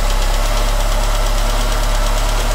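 A 1.1 litre petrol carburettor car engine runs steadily at idle with the choke partly pulled, giving a loud, continuous low rumble with a faint knocking pulse and no voices.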